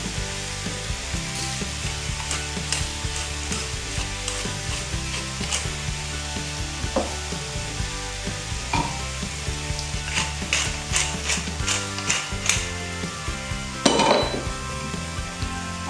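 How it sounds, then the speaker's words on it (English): Belgian beer bubbles in the pan used to brown onions and meat for a Flemish stew, a steady sizzle with utensil clinks and pot scrapes scattered throughout, growing busier near the end. "add some of your Belgian beer to the pan that you used to cook the onions and the meat. And bring to the boil."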